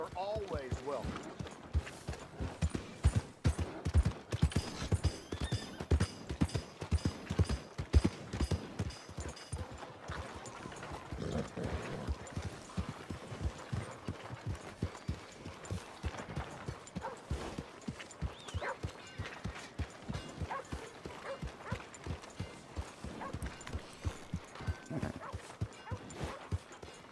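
Horse hooves clip-clop steadily in Red Dead Redemption 2, a continuous rhythmic trot running under frequent in-game voices and ambient sound throughout.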